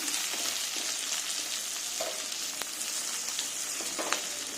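Mixed vegetables, potato and egg fry for a spicy semolina dish, a dense steady close sizzle with occasional sharp pops and spatula scrapes.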